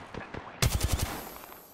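Automatic gunfire in the video game Apex Legends, a quick burst of several sharp, loud shots close by that leaves a fading echo, following faint distant shots.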